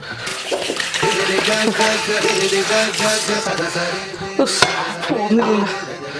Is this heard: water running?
yes